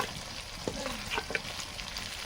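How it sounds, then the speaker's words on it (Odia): Onion frying in a pan as ginger and garlic go in, a steady close sizzle with a few soft stirring scrapes and clicks and no talk. "ଏଥର ଅଦା ରସୁଣ ଆମେ ଆଡ୍ କରିବୁ"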